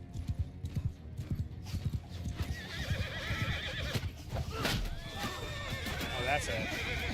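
Horses in a medieval strategy video game gallop with rapid clip-clop hoofbeats, and a neigh rises near the end. The sounds come through battle noise, fairly faint, and someone talks over them.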